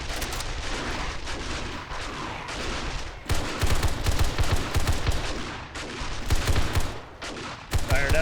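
Automated turret gunfire cuts down a zombie horde in a modded 7 Days to Die game, with loud, dense, continuous bursts and a brief lull before firing resumes at full intensity.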